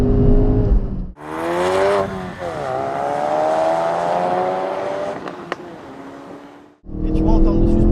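Ford Focus RS engine revving hard under sharp acceleration, a rising roar that climbs through the gears with crackling exhaust detonations, loud and close from inside the car, cut by brief gaps.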